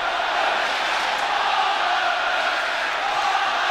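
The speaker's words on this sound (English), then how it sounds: "the Scotland supporters celebrating what is the 100th goal for the club this season" A football crowd at the 1984 UEFA Cup Final first leg, Anderlecht against Tottenham, roars in celebration of a headed goal: a dense, steady wall of cheering and shouting that carries evenly throughout, with no single voice standing out.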